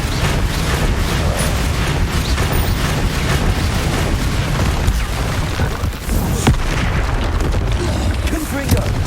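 Spell blasts from the Hogwarts Legacy video game, Confringo fireballs and Bombarda explosions, boom in a dense, nonstop barrage over a heavy low rumble, with sharp cracks breaking through and mechanical clatter mixed in.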